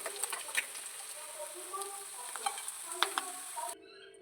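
Fish frying in a pan, a soft continuous sizzle with light stirring clicks and scrapes scattered across it, close by, ending abruptly.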